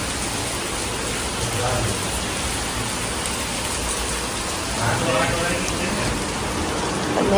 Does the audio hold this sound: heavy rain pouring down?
yes